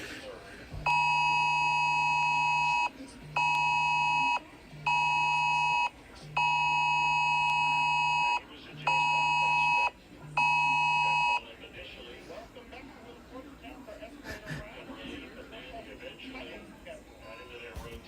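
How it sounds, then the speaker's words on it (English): An emergency alert system test tone sounds in six loud, steady beeps of about a second each, separated by short gaps, followed by quieter room noise. "This is a test of the National Emergency Alert System of the future."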